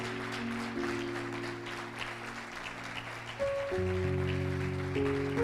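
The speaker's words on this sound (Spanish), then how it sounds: "¿Cuántos aplauden bien fuerte al Señor?" A church congregation claps loudly through a Spanish-language sermon, the steady applause blended with sustained keyboard or organ chords that shift pitch partway through and swell slightly louder near the end.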